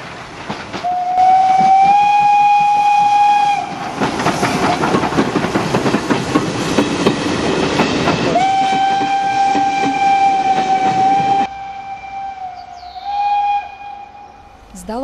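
Slovak steam locomotive 464.001 stands at Velke Bielice station and blows long, loud whistle blasts, then lets off a roaring burst of steam. The whistle sounds again and the clip ends with quieter hissing and clanking.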